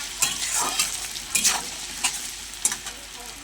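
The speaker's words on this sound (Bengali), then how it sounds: "তেলের মধ্যে দিয়ে দেবো পেঁয়াজ কুচি লঙ্কা কুচি পেঁয়াজটা মাংসটা ভালো করে একটু ভাজা ভাজা করে নেব" Chopped onion and chili frying in hot oil, a steady close sizzle broken by several sharp stirring scrapes, with no voices.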